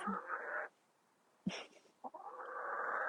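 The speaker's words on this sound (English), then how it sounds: "I have a chicken literally just come and visit me." A black hen nearby gives soft, close clucking vocalisations in a few short bursts separated by quiet pauses.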